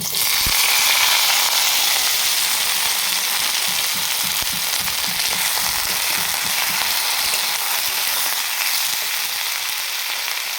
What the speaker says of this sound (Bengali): সরষের তেল আর একটা শুকনো লঙ্কা। এবার এর মধ্যে দিয়ে দেবো আলু আর ভেন্ডিটা।